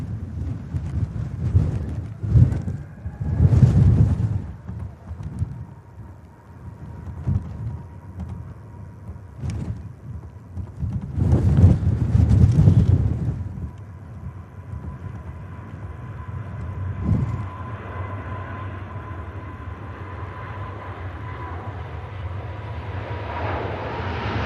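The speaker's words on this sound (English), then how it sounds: "This wind is definitely picking up, though." Strong wind gusts buffet the microphone at Manchester Airport, a steady low rumble that surges loudly twice and then settles into a softer, continuous whoosh with no talking.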